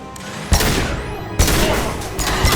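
Gunfire from the video game Mass Effect 2, with loud, dense bursts of rapid shots and heavy impacts filling the clip. Sharp volleys hit at about half a second and again near one and a half seconds, with faint whooshes trailing through.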